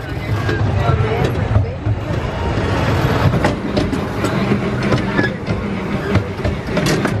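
Rumbling, rattling amusement park ride train at Hersheypark rolling along steadily with clacking over the track, loud and continuous, with voices faintly mixed in.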